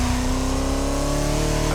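The 1936 Bugatti Type 57 SC Atlantic, a car designed by Jean Bugatti, drives in The Crew Motorfest, its engine holding a steady, slowly rising drone, close and constant throughout.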